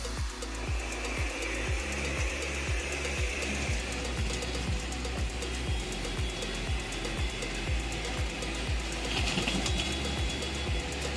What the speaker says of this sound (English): This is a technological device designed to automatically harvest tomatoes from the field.